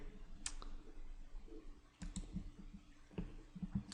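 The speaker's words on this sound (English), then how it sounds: "Click OK." A few crisp, close computer clicks with short gaps between them, joined by faint typing-like taps, all heard against quiet room sound with no talking.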